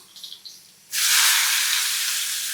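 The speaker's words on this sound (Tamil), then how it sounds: "சின்ன வெங்காயம் நல்லா கோல்டனாக சூப்பராக வதங்கட்டும்." Shallots and green chillies sauté in a hot pan with a loud, steady broadband sizzle that starts abruptly partway through, after a few quieter scraping and frying sounds, and continues without talk.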